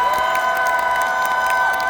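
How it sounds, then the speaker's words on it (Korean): A large crowd at a political campaign rally in Busan cheers and applauds continuously, a dense wash of shouts and clapping with no speech over it. "관련자 여러분들께 큰 박수 부탁드립니다."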